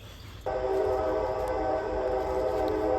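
Train at a railroad crossing sounding its horn, a loud sustained multi-tone blast that begins abruptly and holds steady.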